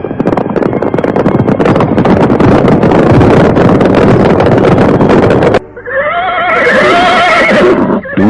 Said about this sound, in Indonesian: mendadak terdengar puluhan ekor kuda mendekat